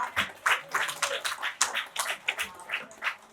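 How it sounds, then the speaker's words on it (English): Scattered audience applause for candidates at a 2024 Riverbay board election forum, a thin run of separate claps at a steady pace that never swells into a full ovation. "give them a round of applause for the wonderful job they did tonight"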